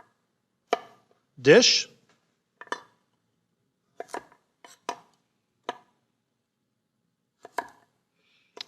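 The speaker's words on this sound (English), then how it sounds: "I'm going to cut them on a long bias because I like the way it looks." Carrots sliced on a long bias with a kitchen knife on a cutting board, giving a handful of sharp, separate chops spaced irregularly and heard up close, with one brief spoken word and a short clatter early on.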